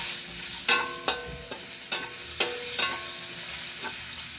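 Onions sizzle in a hot pan while a utensil stirs them, the steady frying hiss broken by about six sharp scraping clinks at uneven intervals, close up.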